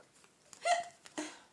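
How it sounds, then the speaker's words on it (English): A single sharp hiccup from an adult, close and fairly loud, standing alone in a quiet room, followed by a brief breathy sound. "Pardon me, I got the hiccups."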